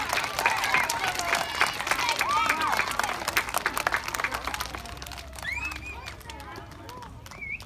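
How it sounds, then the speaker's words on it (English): Audience clapping fills a school awards assembly at an elementary school, a dense crowd applause with scattered children's voices and shouts over it, loud at first and thinning slightly toward the end. "let's give our Personal Success Award recipients a big round of applause"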